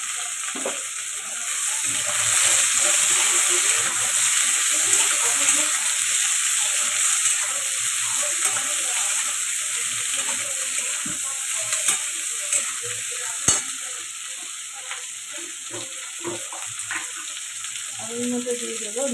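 Salted potatoes fry in a pan, a strong continuous sizzle close by, broken by occasional light clinks and scrapes of stirring, with no voices.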